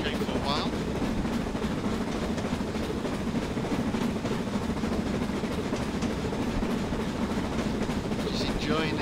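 Steam locomotive in Train Simulator 2016 on the Western Lines of Scotland, a steady low rumbling chuff and rolling noise running continuously throughout, with faint hissing bursts near the start and end.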